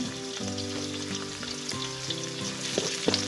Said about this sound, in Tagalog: Nagisa na ng luya. Sunod niyan ay ayan yung bawang.